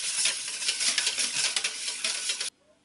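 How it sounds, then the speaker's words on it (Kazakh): A silicone spatula stirs and scrapes a buttery dough mixture for puff pastry in a bowl, giving busy, close, wet swishing and scraping for a couple of seconds before stopping abruptly into near silence. "Араластырамыз."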